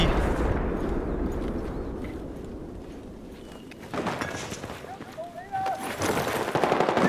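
Grenade blast and rattling gunfire in the shooter Battlefield 4: a heavy rumbling explosion fades out, then scattered sharp shots crack near the end while someone talks over the action.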